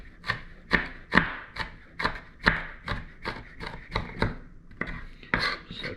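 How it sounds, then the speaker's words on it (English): A knife roughly chops half a shallot for an anchovy and garlic dip: a steady run of about a dozen crisp, close strikes at an even pace, with no talking. "I'm going to use about half of the shallot. I just want to kind of roughly chop this up"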